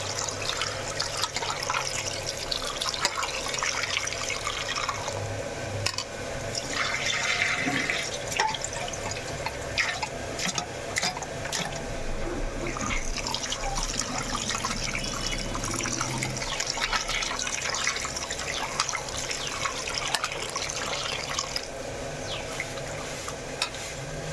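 Water runs steadily from a tap as goat head meat is rinsed two or three times, a constant close splashing and trickling wash with small drips and clatters throughout.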